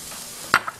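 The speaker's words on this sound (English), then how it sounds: "Give that a nice mix." Cauliflower fried rice seasoned with black pepper gets stirred in a pan, giving one quick scraping clack and a fainter tap just after, over a soft steady background hiss.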